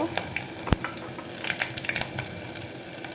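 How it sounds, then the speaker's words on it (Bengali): Bay leaf, ginger and whole cumin paste hitting hot oil for basanti khichuri, a bright continuous sizzle with crackles and one sharp clatter, close and loud. "এখন তেজপাতা দিয়ে দিব। তারপর দিয়ে দিব আদা, তারপর গোটা জিরা পেস্টটা দিয়ে দিব।"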